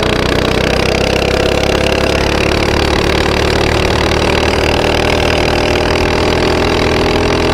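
Close, loud, steady high-revving engine drone of a mini bike running flat out at top speed on nitrous oxide, with no pauses or talk.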